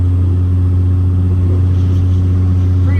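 A car engine idling steadily and loud from close by on its first drive after a major engine failure and repair, a constant low hum with no speech.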